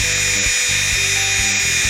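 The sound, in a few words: small electric motor spinning fast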